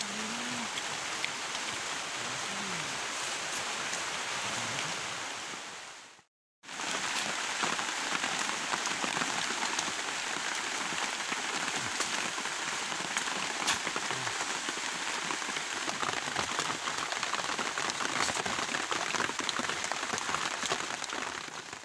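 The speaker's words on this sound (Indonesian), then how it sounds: "Hujan besar." Heavy rain pouring down through large trees and foliage during a palm fruit harvest, a dense, steady hiss that stays loud throughout, with one brief cut to silence near the start.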